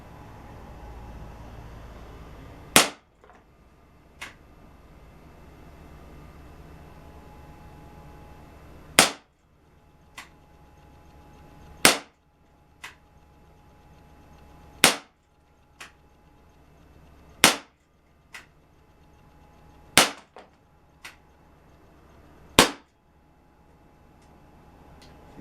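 Walther PPK/S air pistol fired single action, giving eight sharp, loud cracks spaced a few seconds apart over a faint steady background hiss, with no talking.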